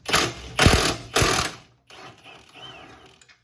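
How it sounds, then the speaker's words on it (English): An impact wrench loosening a bolt during a Kraken turbo kit install on a Mazda MX-5: three loud, rapid hammering bursts close by, followed by quieter rattling and a faint whir as the tool winds down. "we're gonna use the impact"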